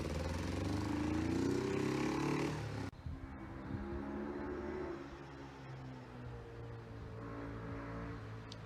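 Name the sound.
old motorcycle engine running on first ride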